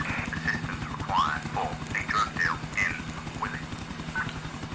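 Police EC145 helicopter landing in a video game, its steady rotor thrum and turbine drone running continuously beneath someone talking.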